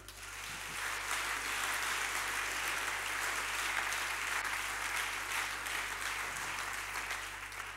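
A church congregation applauding, steady sustained clapping from many hands filling the room for several seconds, with a low hum underneath and no talking.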